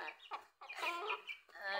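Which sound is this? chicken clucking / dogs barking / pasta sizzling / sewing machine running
chicken clucking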